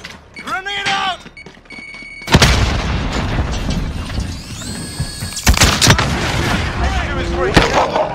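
A grenade blows up in Call of Duty Modern Warfare, a sudden loud broadband boom followed by a sustained rumbling wash of battle noise with further sharp impacts, while voices speak over the in-game action.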